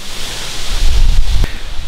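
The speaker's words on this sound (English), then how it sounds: "it is super windy, so I hope that the wind's not affecting this" Strong wind buffets the microphone with a rumbling, gusty roar, rising in the middle with a brief knock.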